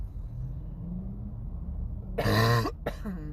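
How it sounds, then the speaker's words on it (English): One close, harsh cough bursts out, followed by a shorter second one over a low rumbling background. "I still have that beautiful cough"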